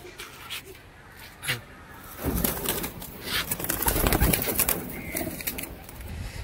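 Pigeons cooing on a rooftop: soft, repeated throaty coos, close by, with a brief flutter of wings, growing busier and louder toward the middle before settling.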